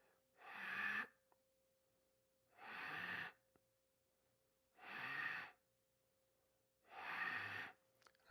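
Slow, controlled exhales during a guided breathing class come as four long, even breaths, close and soft, at steady intervals with quiet pauses between them.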